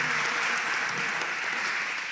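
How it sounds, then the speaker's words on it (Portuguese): A church congregation at a Sunday altar service applauds in praise, a continuous wash of many hands clapping evenly, fairly distant and sustained throughout with no break. "Uma salva de palmas ao nosso Senhor e ao nosso Salvador Jesus Cristo."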